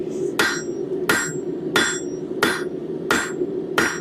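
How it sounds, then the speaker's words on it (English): Six evenly spaced hammer blows ring out on hot steel as a hook is forged, each a sharp close metallic strike about two-thirds of a second apart over a steady low hum of the shop, with no talking. "And kind of even out that hammer blow."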